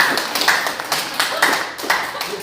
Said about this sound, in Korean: 박수로 한번 쳐봤어요